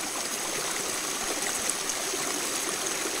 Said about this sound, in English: Why does the river drop down a little bit in flow